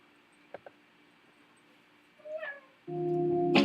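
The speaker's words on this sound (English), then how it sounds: "I think I heard a cat in the distance." A cat meows a few times, faint and distant at first, then a louder drawn-out meow near the end, with a couple of small clicks early on in a quiet room.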